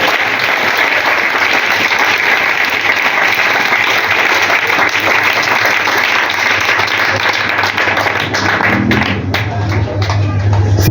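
A church congregation claps loudly and continuously in sustained applause, a thick uninterrupted roar of hands with voices mixed in, fading slightly toward the end.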